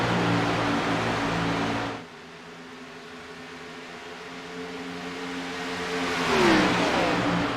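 A race car on an oval track drones loudly, drops off abruptly, then climbs again in pitch as the engine builds power, a near, continuous roar with no voices over it.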